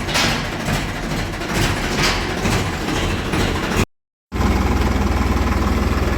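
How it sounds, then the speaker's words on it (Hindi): A Ford 3600 tractor engine runs with a loud, rough mechanical drone up close, cutting out abruptly for a moment before resuming with a steady low throbbing idle. "वाह क्या शानदार आवाज है फोर्ड की, फोर्ड 3600"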